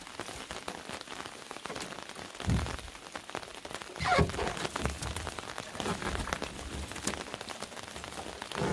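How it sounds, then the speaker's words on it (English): Rain pattering steadily on a camouflage truck tent during a multi-day downpour, a dense, even hiss of drops with a few louder splatters, close and continuous. "it's raining"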